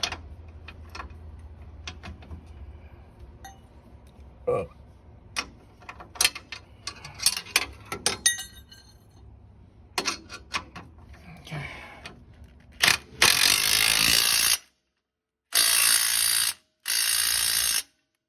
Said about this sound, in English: So I'm gonna use the impact driver to screw it back on too.